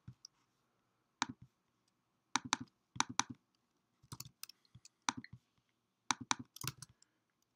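Code is typed on a computer keyboard in quiet, close bursts of crisp key clicks separated by short pauses.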